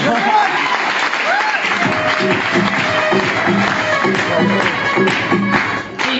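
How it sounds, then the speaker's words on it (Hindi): Loud, sustained applause from a crowd at a direct-selling event, dense clapping throughout with voices mixed in over it. "एक बार बाबा पर जोरदार ताली होना चाहिए"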